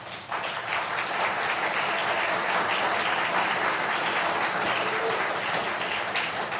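Sustained applause from a large audience at a board meeting, a dense, even roar of clapping that starts abruptly and holds steady and fairly loud without letting up.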